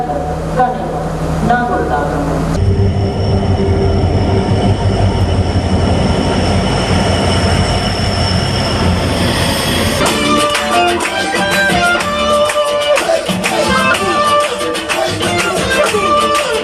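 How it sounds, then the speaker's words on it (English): Yaldevi passenger train pulling into Anuradhapura railway station, a loud sustained rumble of rolling railcars with clattering wheels and brief squeals, a voice talking over the start before the train noise dominates. "The Yaldevi train arrived at the Anuradhapura railway station at about 10 a.m. today."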